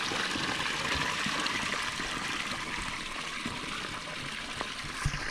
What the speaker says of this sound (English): Creek comes down through here and off over here